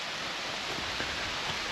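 Rain falling steadily in a forest, a dense, even wash of hiss without breaks or voices.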